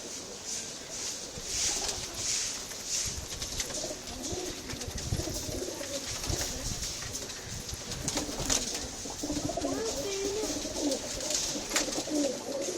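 Pigeons coo softly and repeatedly over a steady ambient hum, with occasional rustling and faint chirps in the background, birds near a cage.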